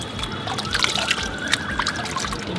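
Water trickles and splashes steadily at close range as it is poured over a newborn puppy during its first bath, with small drips and sloshes and no voices.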